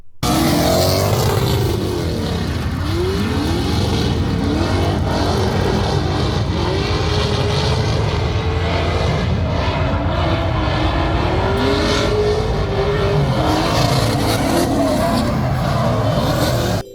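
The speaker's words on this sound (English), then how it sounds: "this year there was drifting" Cars drift around the Beach Bend race track in a loud, continuous roar of revving engines rising and falling, with repeated sweeping engine pitch swings and tire noise as the cars slide past nearby.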